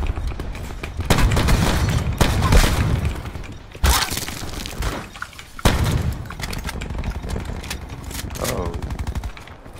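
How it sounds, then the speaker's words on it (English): Heavy weapon fire in Call of Duty: Black Ops 4 Blackout near a trailer park, with a shotgun in play: close, loud shots and bursts with booming hits at irregular intervals, continuing throughout amid crackling impacts. "I'm gonna use my shotgun."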